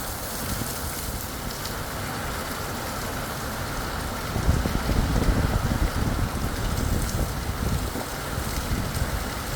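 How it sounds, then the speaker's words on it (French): Strong gusts of wind roar through during a violent thunderstorm in the Drôme, a steady buffeting rush that thickens into a heavier, louder surge halfway through. "Oh, il y a des rafales de vent,"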